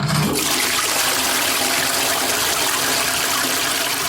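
A toilet flushes with a loud, steady rush of water that fills the whole clip, close by and continuous.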